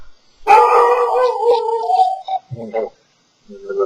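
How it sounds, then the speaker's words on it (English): A dog howls and barks in the background, a drawn-out howl followed by a few shorter yips, fairly loud and mixed with speech. "There's a dog barking in the background."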